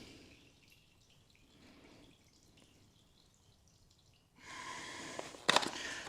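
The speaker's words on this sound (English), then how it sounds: "Make sure we get all the oil drained out of that filter cover there." Oil draining from the filter cover of a 2023 CF Moto Explore motorcycle during an oil change, a faint trickle at first that turns into a louder, steady splashing stream in the second half, with a brief sharp spatter near the end.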